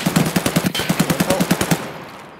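A rapid automatic burst in Escape from Tarkov, about a dozen evenly spaced loud shots close by, fading into a short echoing tail, with no talk.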